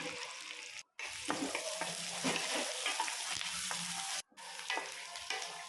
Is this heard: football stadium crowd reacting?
no